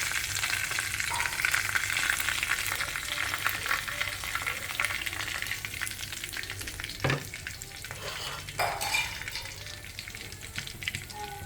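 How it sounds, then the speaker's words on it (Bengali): Chicken meat fries in oil in a karahi, a steady, loud crackling sizzle throughout with scraping stir strokes and a few sharper clatters near the end. "মাংসটা ভাজা হয়ে গেছে, আমি নামায় ফেলাবো। সুন্দর করে ভাজলাম।"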